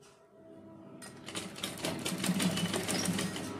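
A sewing machine runs steadily while stitching narrow lace onto a blouse, a close, continuous mechanical whirr with a rapid needle chatter that starts after a brief quieter hum.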